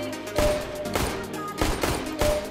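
Rapid bursts of gunfire from guns in CS:GO on a workshop map, several close, loud volleys of shots in quick succession over a short stretch, with no talking.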